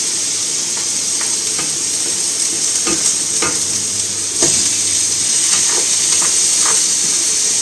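A skinless salmon fillet frying in a pan gives a loud, continuous sizzle with a steady hiss and occasional crackles and pops, close up and unbroken by speech.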